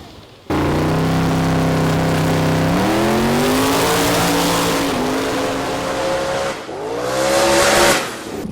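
A junkyard-bought race car fitted with a roll cage and a turbocharged LS engine, racing Pinks, revs loud and close for several seconds with rising engine pitch through gear shifts, then a brief dip before a final climbing surge.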